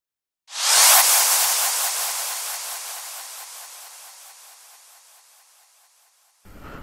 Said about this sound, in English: It's a sweep from a Vengeance sample pack, or however you say it